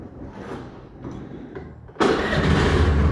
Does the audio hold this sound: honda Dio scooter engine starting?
yes